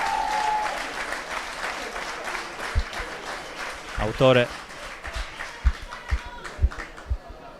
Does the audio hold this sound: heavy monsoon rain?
no